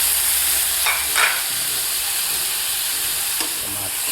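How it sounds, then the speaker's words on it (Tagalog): Shrimp sinigang being stirred in a cooking pot, with steady sizzling and bubbling broth and a few brief scraping stirs, close by and moderately loud. "Haluin natin para mabango."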